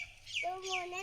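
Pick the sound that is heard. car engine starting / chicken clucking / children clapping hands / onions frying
chicken clucking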